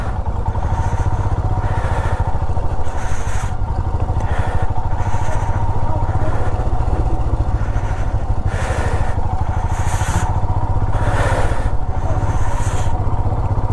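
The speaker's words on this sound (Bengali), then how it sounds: "আমার লাইফের ফার্স্ট টাইম আমি ব্ল্যাক আইসে বাইক চালাচ্ছি বন্ধু" A motorcycle is ridden slowly over black ice on a mountain pass road, its engine throbbing steadily and close, with rhythmic clattering bursts and wind buffeting through the ride.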